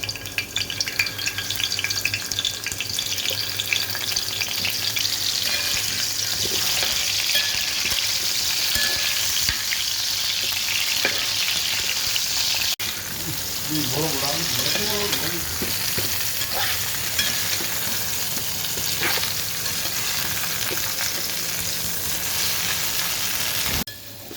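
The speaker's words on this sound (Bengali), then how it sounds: "আমি এগুলো একটু একটু ভেজে নিব একটা একটা করে।" Steady, dense sizzling of young jackfruit pieces frying in hot oil, close and continuous, with occasional stirring clinks and scrapes partway through.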